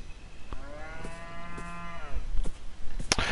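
A cow lows once in the video game Beyond Eyes, a long drawn-out moo with a clear tone, fairly close and alone, followed by soft footsteps and a sharp click near the end.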